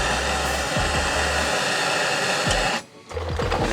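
A heat gun blows hot air onto a coilover during a BC Racing coilover install on a 10th-generation Honda Accord, giving a loud, steady close roar that briefly dips before resuming.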